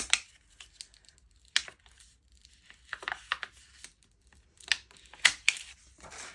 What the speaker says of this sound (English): because this is smart vinyl, it's quite thick to peel off, but we're just going to peel it back like this